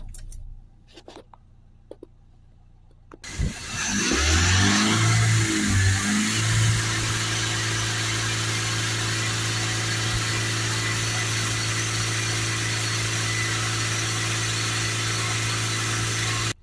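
A Ford Transit van with a blocked DPF cranks briefly after a few quiet clicks, catches and settles into a steady, close idle that runs unbroken to the end.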